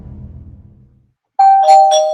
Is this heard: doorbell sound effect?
yes